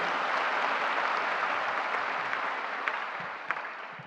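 An audience at an annual Akurinu prayer service applauds in a dense, sustained wash of clapping that fades slightly toward the end, with a couple of sharper individual claps near the close.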